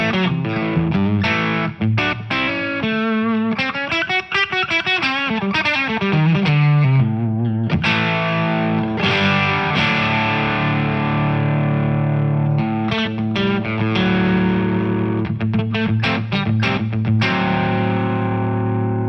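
Electric guitar played through a Son Of Chupa overdrive pedal with the gain boosted, giving a loud, continuous distorted tone with strummed chords and single-note runs, alone and without talking.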